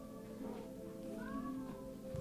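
A pet cat meows in a drawn-out, close, clear call lasting about two seconds, with faint room noise beneath.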